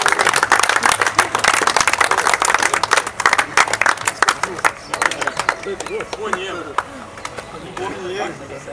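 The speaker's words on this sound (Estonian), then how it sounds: "Aplaus talle." Applause from an audience at a karting award ceremony, loud dense clapping for the first several seconds that thins into scattered claps and fades, with voices murmuring underneath.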